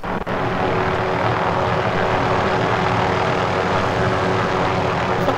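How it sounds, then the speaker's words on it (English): A helicopter flies in a video game with a continuous loud engine and rotor drone and no talking over it. "Oh, helicopter."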